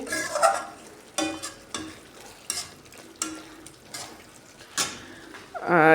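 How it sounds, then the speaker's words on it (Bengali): Spice masala for goat liver being stirred and fried in a pan, with a run of close spoon scrapes and clatters over a low sizzle, separated by short pauses. "এর জন্য মশলাটা ভালো করে কষাই নিতেছি"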